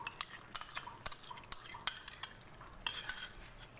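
Yogurt and tamarind paste being mixed into chicken, a quiet close run of wet stirring strokes with light spoon clicks against the bowl, irregular and fairly soft.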